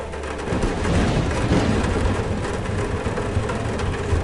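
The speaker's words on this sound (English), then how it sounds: "We better get inside before the storm starts!" A video game thunderstorm rumbles with a heavy, continuous wash of rain and low thunder, loud and close throughout with no voices.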